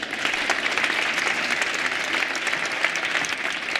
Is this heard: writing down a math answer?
no